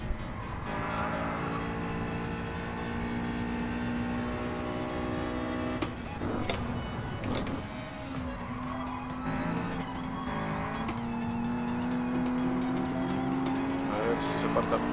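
A Toyota sports car engine in the racing game GT Sport holds a steady, buzzy tone that rises and falls with the revs, with tire squeal at times. It is loud and continuous, and someone talks over it now and then.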